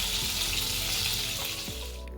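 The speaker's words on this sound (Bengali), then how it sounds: "তাহলে চলো মাছগুলোকে ভেজে আমি তুলে নিই" Koi fish frying in hot oil in a kadai, a steady dense sizzle with bubbling crackle throughout, close and loud, with a couple of brief utensil scrapes and no talking.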